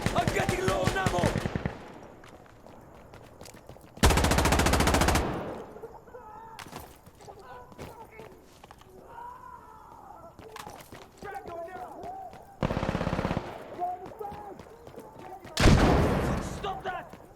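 In the shooter game Insurgency Sandstorm, loud bursts of automatic gunfire come in several separate volleys, with people talking and shouting between and over the shots.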